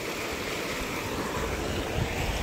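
River in the hills of Uttarakhand, India: a continuous, moderately loud rush of flowing water, close and steady, with no voices.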